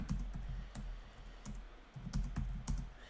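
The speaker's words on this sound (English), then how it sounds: "so that's the reason I'm just typing it out" Computer keyboard typing, close and fairly quiet, in irregular bursts of keystrokes with short pauses between them.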